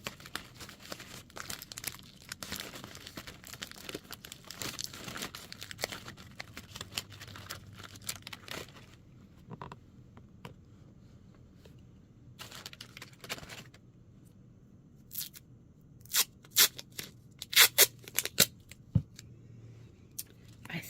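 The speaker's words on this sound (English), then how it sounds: "Let's start taping and see what happens." Tape rips and crinkles in short, scattered bursts as it is torn and pressed onto a clay-free spooky tree diorama craft project. The sounds are close and fairly quiet, with brief louder crackles near the end.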